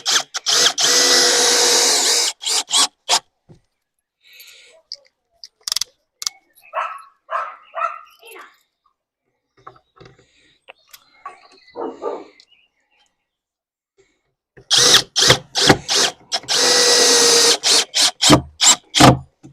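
A Dong Cheng 20V brushless impact drill driving recycled screws gives loud, close bursts of rapid hammering whir. The bursts are separated by quieter clicks and handling noises, with a dog barking in between.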